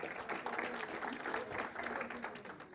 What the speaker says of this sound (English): So let's have a round of applause for the gentleman.